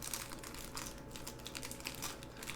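Plastic bag crinkling and rustling close by during the unboxing of an imported Japanese PS Vita 2000 handheld console; soft, irregular crackles continue quietly throughout.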